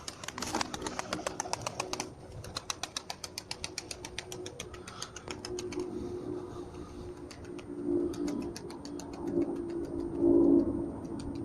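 Pigeons coo softly in a loft with eggs and young birds, a low steady murmur under a run of rapid clicks and taps at the start, the cooing swelling louder near the end.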